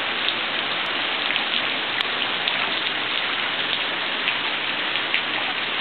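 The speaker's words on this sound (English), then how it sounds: "It's raining." Steady rain falls on a hard surface, a continuous even hiss with faint scattered drip ticks, with no other sounds over it.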